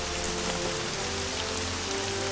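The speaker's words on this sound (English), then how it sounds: "Oh, it's raining." Steady rain falls across a city in the Roman city-building game Caesar IV, a continuous hiss of drops on surfaces with a faint tonal hum of game music beneath, and no voices.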